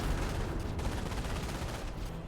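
An MG42 machine gun rattles in Company of Heroes amid the clatter of a battlefield skirmish. Gunfire is dense and continuous for a couple of seconds, with rapid bursts blending into the surrounding combat noise.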